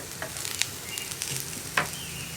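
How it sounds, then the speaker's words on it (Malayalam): Two green chillies, split and cut across, sizzle in a frying pan while a carrot and payar thoran cooks, with a steady crackle and a few sharper pops and spatters. "ഞാനിപ്പോൾ 2 പച്ചമുളക് ചേർക്കുന്നു എന്നേ ഉള്ളൂ"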